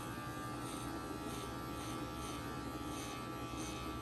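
Electric hair clippers taper the sides of a haircut, giving a steady, close buzzing hum that runs evenly throughout with no pauses.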